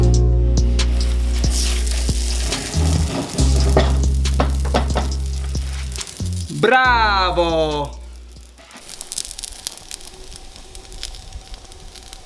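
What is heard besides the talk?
bread dough sizzling in hot pan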